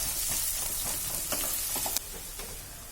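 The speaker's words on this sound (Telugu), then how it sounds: "ఒక పెద్ద ఉల్లిపాయ తరుగును కూడా వేసి ఫ్రై చేసుకోవాలి" Curry leaves and chopped onion frying in hot oil, a constant close hiss of sizzling with a few light clinks and stirring scrapes, steady in loudness before easing slightly at the end.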